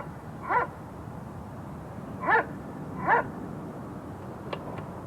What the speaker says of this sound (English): Now, that's an aggression bark,